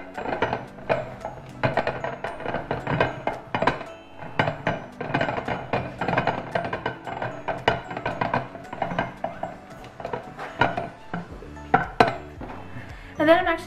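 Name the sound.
spatula scraping around edges of cake slime pan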